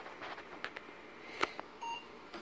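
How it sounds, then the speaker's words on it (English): A single short, high electronic beep from a PC's BIOS at power-on, heard once amid faint clicks and hardware noise. "One single beep from the BIOS."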